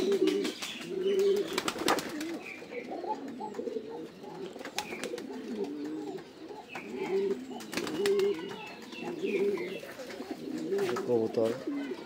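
Pigeons coo in repeated low, throaty phrases close by, rising and falling in a steady rhythm, with sharp clicks and scattered chirps mixed in.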